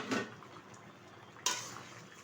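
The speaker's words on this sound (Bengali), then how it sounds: "ঢাকনাটা তুলে দিচ্ছি।" A lid comes off a pan of simmering egg curry: two quiet metallic clinks about a second apart over a faint bubbling hiss.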